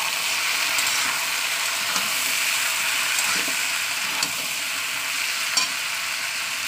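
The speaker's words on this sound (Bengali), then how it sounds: "চলুন এর উপর আমি দিয়ে দেবো যে শাক ভাজাটা, এই মানে শাক যে লবণ দিয়ে সিদ্ধ করেছি ওটাকে দিয়ে দিচ্ছি" Salt-boiled water spinach greens are stirred and fried in a pan. A continuous close sizzle runs throughout, and occasional scraping clicks from the spatula break through it.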